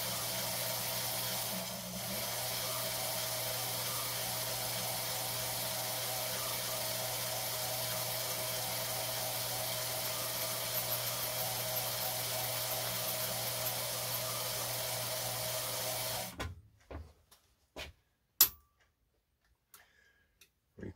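A Pfaff 130 sewing machine winding a bobbin, a steady loud whirring drone that runs unbroken for about sixteen seconds, then stops abruptly, followed by a few faint clicks and ticks in near silence.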